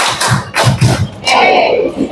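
A crowd at a school anti-bullying event claps on cue, with several quick clap bursts in a row, then a longer stretch of voices and cheering.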